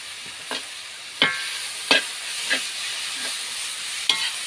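Morning glory (water spinach) stir-fried over high heat in a home kitchen, a steady loud sizzle with several sharp clanks of a spatula against the pan scattered through it, no voices.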